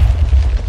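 A shotgun blast from a Minecraft gun mod, one loud, deep booming report filling the whole short moment.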